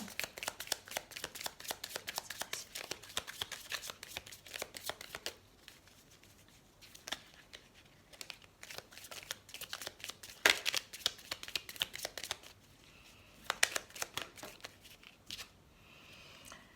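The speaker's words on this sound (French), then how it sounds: "Je vais tirer la carte synthèse pour voir." Tarot cards are shuffled and drawn from a deck in rapid crisp riffling bursts, pausing briefly, then continuing in close, quiet, steady flurries.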